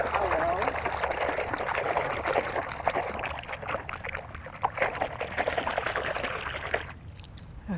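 Water pours steadily into a container for soaking laundry, a continuous splashing trickle that fills most of the clip before tapering off near the end.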